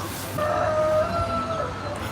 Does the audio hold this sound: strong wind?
no